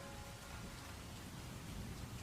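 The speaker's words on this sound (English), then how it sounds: "The rain is falling heavily" Heavy rain falling in a dense, steady hiss with no gaps, faint and distant in tone, with a low rumble underneath.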